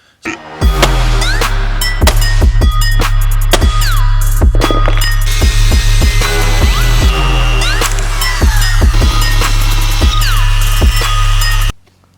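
A power drill grinds steadily through steel plate, whining under load with repeated sharp catches and bursts, loud and close, stopping abruptly at the end.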